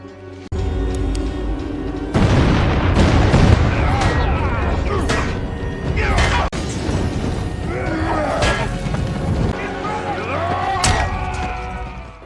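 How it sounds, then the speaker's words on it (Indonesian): Gunfire and an emergency alarm sound amid chaos, with sharp booming shots scattered among shouts and commotion, loud and dense, voices calling out throughout. "Bunyi tembakan di mana-mana dan alarm darurat pun dinyalakan"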